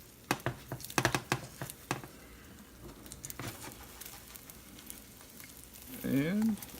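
An omelet frying in a pan while a spatula runs around its edges, giving a series of sharp close scrapes and taps over a low steady sizzle, ending in a louder burst of frying and scraping.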